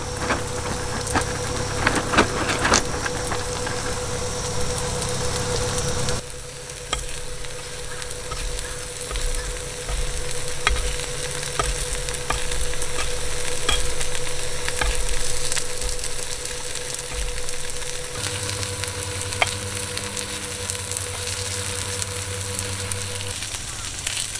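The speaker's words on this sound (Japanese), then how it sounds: "さらにごま油をかけて揚げていきます" Takoyaki fry in sesame oil at a solo campsite, giving a continuous crackling sizzle with faint pops and occasional clicks, loud and close, with no talking over it.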